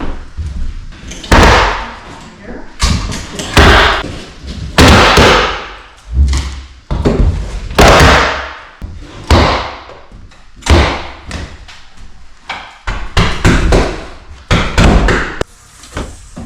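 Repeated hammer blows during a whole-house re-plumb and kitchen prep, striking through plywood subfloor: loud, irregular thuds and whacks, close and sharp, spaced a second or two apart.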